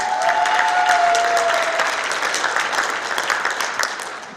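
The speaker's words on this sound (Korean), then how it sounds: "다시 한번 큰 박수 부탁드리겠습니다." An audience at a former mayor's book launch event applauds a guest with loud, sustained clapping from many hands that slowly tapers off over a few seconds.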